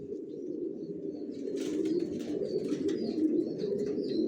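Racer pigeons coo in a loft with a low, continuous throaty burbling, close and moderately loud, along with faint wing rustles and light chirps.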